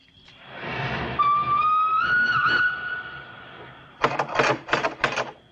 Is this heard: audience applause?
no